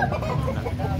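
Steady low clucking from gamefowl chickens at a breeding farm, continuous and fairly close, with a busy farmyard murmur underneath.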